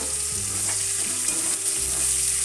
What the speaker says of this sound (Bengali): পেঁয়াজটা আমি এবার হালকা ফ্রাই করে নেবো।